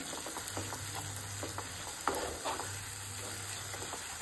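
Sweet potato sautéing in ghee with a steady low sizzle, broken by repeated scraping stir strokes and a sharper clank about midway, close and continuous with no talking.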